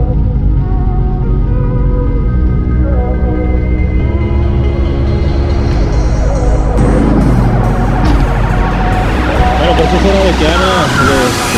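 A 1971 BMW 2002 with a freshly repaired engine and swapped transmission drives steadily, its engine hum loud and close, rising in pitch partway through as it accelerates, with tonal whine over the running noise.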